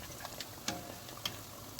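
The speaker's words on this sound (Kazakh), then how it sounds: "Қызып тұрған майға бауырсақтарымызды аз-аздан салып, қозғай отырып, сап-сары алтын түске енгенше қуырып алатын боламыз" Baursak dough pieces fry in hot oil with a soft, continuous crackling sizzle, punctuated by a few small sharp pops.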